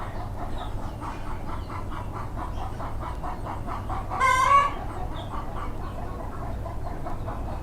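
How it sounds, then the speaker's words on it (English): Backyard chickens cluck and squawk in their yard in a steady rhythmic chorus, with one louder squawk rising above the rest and a constant hum underneath. "My chickens are making a noise."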